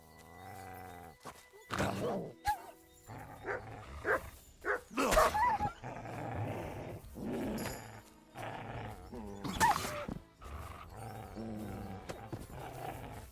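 A dog in the video game Kingdom Come Deliverance 2 barking and snarling in bursts amid fighting, with growls and loud, irregular rough yelps, close and fairly strong.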